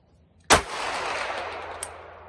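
A rifle fitted with a red dot sight fires one loud, sharp shot that rings out with a long echoing decay outdoors, followed by a fainter knock a moment later.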